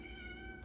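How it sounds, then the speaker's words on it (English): A domestic cat meows indoors during a blueberry yogurt taste test, a short tonal cry with a faint, steady pitch over low room noise and no talk. "Sorry if you hear my cat meowing."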